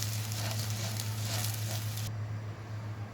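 Chicken with sesame sizzling in a pan while being stirred, a steady bright crackle with a low hum beneath, cutting off abruptly near the end.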